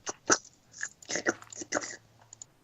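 A person chews food close to the microphone, a series of irregular crunchy bites and mouth sounds spread over a few seconds in a quiet room.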